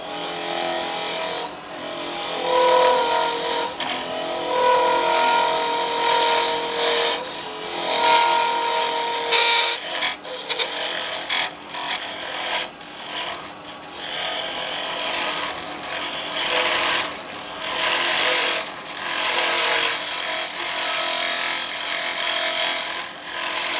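Carbide chisel cutting the inside of a small wooden vase spinning on a lathe, a steady scraping, rasping whir with recurring rougher bursts as the tool bites, close and continuous with no talk.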